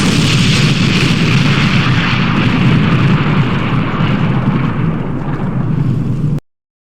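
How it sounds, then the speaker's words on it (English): A nuclear bomb detonation in the Roblox-style train game Stepford County Railway roars as a loud, sustained, noisy blast rumble that holds steady for about six seconds before cutting off abruptly into silence. "In his pocket was a nuclear warhead bomb, which he detonated"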